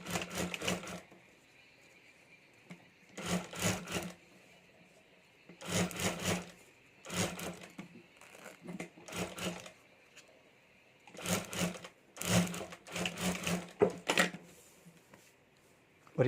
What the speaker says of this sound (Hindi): तो यहाँ मैं सिलाई करके जोड़ देता हूँ।